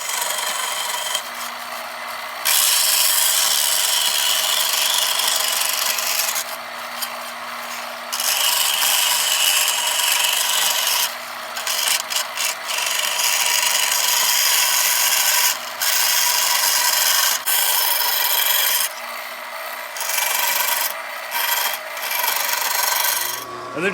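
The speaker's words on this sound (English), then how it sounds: "but I don't, so I'm using the bandsaw." A bandsaw cuts through a steel rose petal blank, giving a loud, steady rasping whine in long bursts separated by brief pauses, with no voices.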